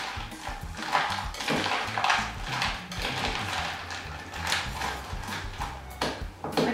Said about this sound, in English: give it a really good stir so you're coating all those candy melts through